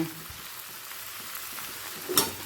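Kabuli chickpeas cooked with minced chicken fry softly in a pan, a faint low sizzle with a few light stirring scrapes and a brief sharper clink near the end, no voices.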